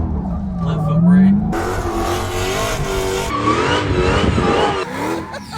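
A drifting car under left-foot braking revs hard and squeals its tires, with engine pitch sweeping up and down and a voice talking over much of it.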